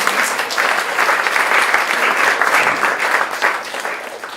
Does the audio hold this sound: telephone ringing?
no